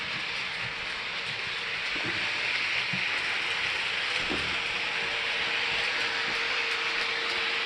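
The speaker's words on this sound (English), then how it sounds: "while the train's running, let's go back to this alternating run" Model train running along its track in an operating layout, a steady rolling rumble with hiss and faint clicking of wheels over rail joints, continuous and fairly loud with no speech.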